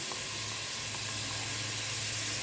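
Onion frying in a pan with minced garlic and grated tomatoes, a continuous close hiss of sizzling oil holding steady throughout.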